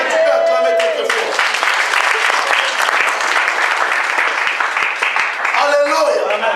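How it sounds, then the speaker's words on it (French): Church congregation at an evangelical service applauding and cheering loudly, a dense sustained roar of clapping that sits between voices at the start and the end. "Est-ce que tu peux acclamer très fort?"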